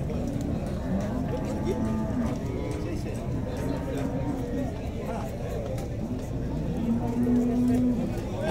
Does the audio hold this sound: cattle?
yes